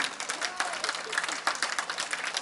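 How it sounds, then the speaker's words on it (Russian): Concert audience applauding a performer walking on stage, a steady, fairly loud patter of many hands clapping in a hall with no break for the whole stretch. "Ваши аплодисменты, Сергей"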